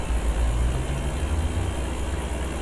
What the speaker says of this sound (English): That's a really loud car.